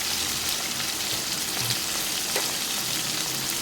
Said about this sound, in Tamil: சேர்த்துட்டு நல்லா வதக்கி வச்சுக்கணும்.